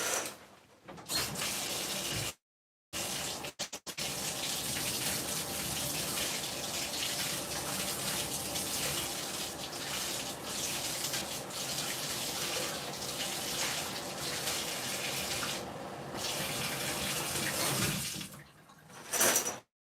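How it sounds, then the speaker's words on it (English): Warm water runs from a bathroom tap in a steady, full rush that lasts almost the whole stretch, stopping briefly a few times with small clicks of the handle. "Let me go ahead and get my warm water going"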